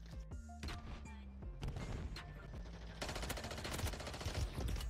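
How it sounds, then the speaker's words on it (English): Repeated gunshots from a rooftop in Call of Duty Modern Warfare 3's Resurgence mode crack out in quick irregular bursts, then give way to denser, heavier rapid fire, moderately loud over a busy game soundscape. "they're shooting from roof"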